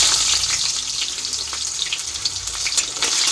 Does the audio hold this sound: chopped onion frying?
yes